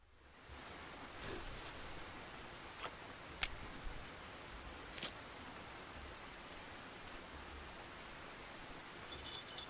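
Steady soft rain falling over water in the fishing game Russian Fishing 4, a faint, even hiss with a few small clicks and splashes and no talking.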